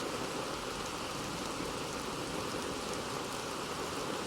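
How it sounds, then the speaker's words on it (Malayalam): Heavy monsoon rain falls in Kerala as a steady, unbroken hiss of dense downpour, even in loudness throughout, with no voices. "അങ്ങനെ മഴ കനക്കുകയാണ്"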